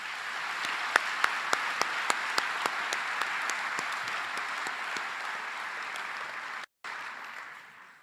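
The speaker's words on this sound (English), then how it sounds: "Please give them a warm round of applause." A graduation ceremony audience claps in a hall, starting with a few distinct individual claps that swell into steady moderate applause, then it cuts out briefly near the end before resuming.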